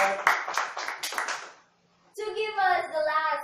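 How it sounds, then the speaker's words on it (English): Brief burst of classroom clapping for a student's explanation in a geography lesson, a scattered patter of hands lasting about a second and a half, then a pause and a voice speaking. "A lot of applause for that."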